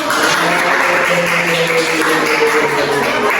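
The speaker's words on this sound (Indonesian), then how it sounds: "Ayo tepuk tangan dulu." Students clap in a classroom during a practice teaching lesson, a steady, dense patter of applause filling the room throughout, with faint tonal voices or ringing sounds threaded through it.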